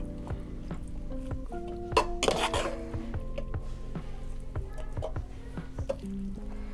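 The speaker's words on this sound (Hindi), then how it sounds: "इसके बाद हम चावलों में इसको मिक्स करेंगे। अब इसके बाद हम इसमें ना ये सब्जियां डाल देंगे सारी।" Fried vegetables tipped into a pan of rice for Chinese rice and stirred through, with repeated metal clinks and scrapes of a utensil against the pan under a faint sizzle, plus some speech and kitchen clatter.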